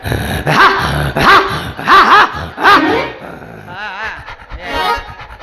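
A crossbred Mudhol hound nearby gives several short growling, yelping vocalizations in quick succession, then quieter whining and breathy sounds toward the end.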